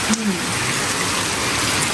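Steady rain in Greece hisses across the whole clip, a dense broadband wash with no pauses; a brief faint voice-like tone sounds near the start.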